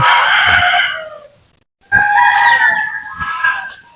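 Native chickens out on a range, calling loudly and close by: a long harsh crowing cry, then a brief silence, then another extended crow with overlapping calls, with no talk.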